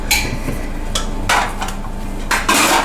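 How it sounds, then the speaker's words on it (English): A metal whisk clatters and scrapes against a bowl while ingredients are mixed for a breakfast freezer meal, in a few short, clinking bursts with quiet pauses between them. "I'm going to whisk all this together."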